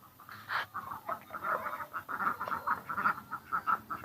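Ducks quacking and clucking repeatedly at close range in a traditional Lao-style village, a steady run of rough calls with no talk.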